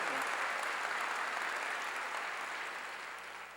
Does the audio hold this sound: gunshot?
no